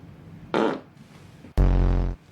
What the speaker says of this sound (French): Attends, il a pété là.